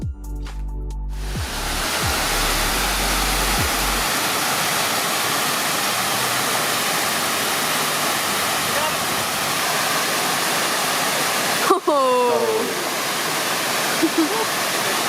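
A North Carolina creek flows with a steady, loud broadband rush of water that fills the whole clip, with a brief burst of other sounds near the start and a few faint chirps late on.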